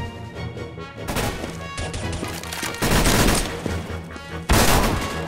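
Video game gunfire in loud bursts and rapid volleys, sharp repeated cracks with heavier blasts building toward the end, close and dense.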